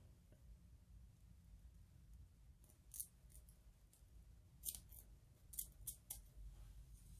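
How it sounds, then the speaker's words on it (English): Scissors snipping through a synthetic lace front wig, several quiet crisp cuts spaced over a low room hum, close but soft. "Cut all the way back and then down."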